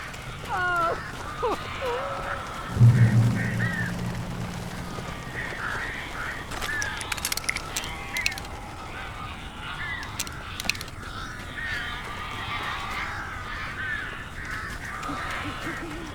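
Crows cawing in the Alan Wake video game, several harsh calls scattered over a dim ambient game soundscape, with a low thud early on and sporadic bursts of cawing in the middle.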